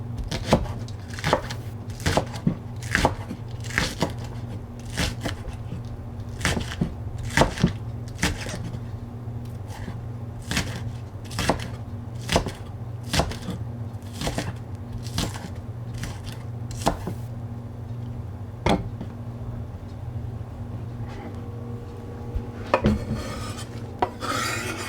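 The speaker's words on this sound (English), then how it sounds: "now we'll just chop up the rest of these" Ingredients for Korean budae jjigae stew are chopped on a cutting board, with a long run of sharp, regular knife strikes under a low steady hum and no talk.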